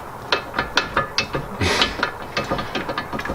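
Worn front wheel and suspension on a MK4 Jetta/Golf with play from a failing lower control arm, rattling as the wheel is grabbed and shaken: a quick series of close, dry knocks and clunks in an irregular rhythm, heard alone.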